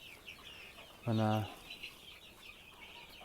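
A Kara Shehzade chick, a black Uzbek chicken breed, gives one loud, clear clucking call lasting about half a second over a quiet background.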